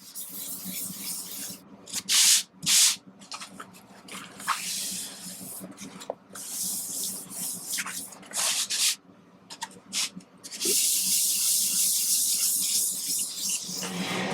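Close, scratchy sanding strokes on a guitar body's hard gloss finish, coming in uneven bursts with short pauses, then a longer continuous stretch of rubbing.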